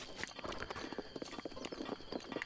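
Horse hooves in Zelda: Breath of the Wild, a quick irregular clip-clop of footfalls close by and fairly soft, with no speech.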